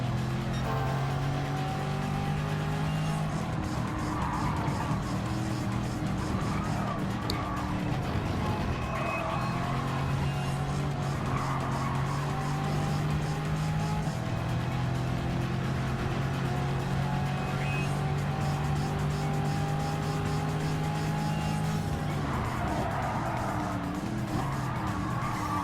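A 1989 Corvette ZR-1 (C4) with a roaring V8 drives in a racing video game, the engine droning steadily and shifting pitch through gear changes, with occasional tire squeal, loud and continuous throughout.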